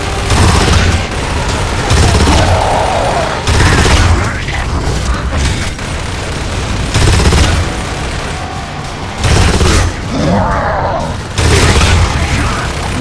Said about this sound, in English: it's always wise to stay in cover when the bullets start flying